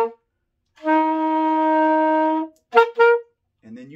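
An alto saxophone plays the closing bars of a festive tune alone, with one long, steady, sustained note followed by two short notes and a faint start of another.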